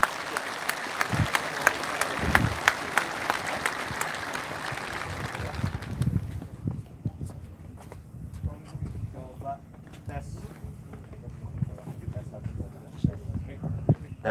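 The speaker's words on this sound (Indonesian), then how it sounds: "Ya, tepuk tangan dulu." Audience applause at a military leadership event at an army officer school in Bandung: dense, loud clapping for about six seconds that then stops, followed by quieter room noise and scattered talk.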